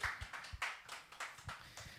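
At a Korean church student fellowship joint gathering, the audience claps in praise to God: a short run of fairly faint claps, evenly spaced in a steady rhythm.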